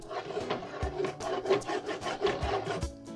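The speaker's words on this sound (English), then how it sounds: "I'm going to also make sure that I scrape the bottom because I don't want it to burn" Flour cooks in a pan for a braised brisket sauce while being stirred and scraped along the bottom. Steady rough rubbing and scraping strokes sound close and moderately loud, with no talk.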